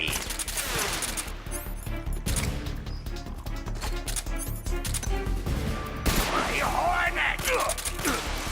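Gunfire in a Metal Gear Solid speedrun fight, with rapid bursts of shots and mechanical clatter continuing throughout over busy game music and effects, dense and loud.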